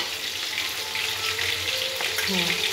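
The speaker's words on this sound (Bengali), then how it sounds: "এবার এইটার মধ্যে ঘি দিয়ে রাইসটা ভাজা চলছে" Rice frying in ghee in a pan for mixed rice makes a steady, close sizzle with light stirring noises, and the bubbling intensifies slightly toward the end.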